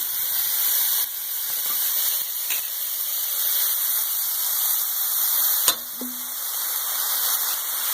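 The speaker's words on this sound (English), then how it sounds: "Put a cover on it, let that steam a little bit while I get some other things ready." A soft, steady hiss of steam and gentle sizzling from a covered pan of stir-fry with a little water added, with a couple of faint clinks.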